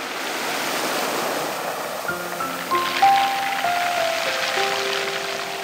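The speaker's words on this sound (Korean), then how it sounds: "주전 몽돌 소리입니다." Waves wash steadily over small pebbles at Jujeon Mongdol beach in a continuous surf hiss. Soft sustained musical tones enter partway through, and no one speaks.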